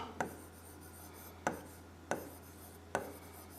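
Writing on a board: four separate scratchy strokes spaced under a second apart, quiet and close, over a faint steady hum.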